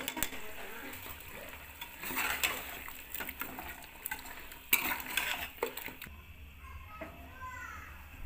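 Goat head curry being served from a pot, with metal spoon clinks and scrapes against cookware at close range over a steady kitchen background, while a voice talks intermittently.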